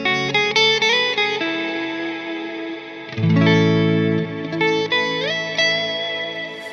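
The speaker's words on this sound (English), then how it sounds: "when the reverb is too long, then the chords are kind of blending all together into a big cluster" Electric guitar chords played through an extreme reverb set to a very long decay, sustained chords smearing and blending into a dense, continuous wash, with a louder low chord swelling midway, no talking.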